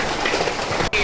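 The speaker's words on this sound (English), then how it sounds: "There is so much rain." Heavy rain pours steadily in a dense broadband hiss, loud and close, with the wash briefly cutting out near the end.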